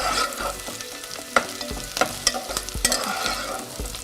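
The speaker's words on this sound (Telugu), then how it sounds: "ఆనియన్స్ కొంచెం కలర్ మారేదాకా మనం ఫ్రై చేసుకుందామండి." Onions fry in a hot pan with a close, steady crackle, broken by several sharp scraping and clanking strokes of a stirring spoon against the metal, no voices.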